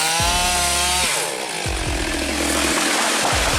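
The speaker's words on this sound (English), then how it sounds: "A worker is cutting down a massive tree with a 4-foot diameter using a powerful handheld chainsaw" A powerful handheld chainsaw cuts into a massive tree about four feet across. The close engine whines and revs in repeated bursts, dipping and surging as the chain bites through the wood.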